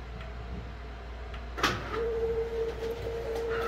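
An Epson F2100 printer running a nozzle check gives a soft mechanical hum, then a sharp clunk, followed by a steady whirring motor tone with faint clicks nearby.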